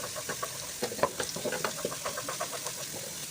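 Onions fry in a pan while a spoon stirs them in scattered scraping clicks over a steady low sizzle, close and fairly quiet, with no talking.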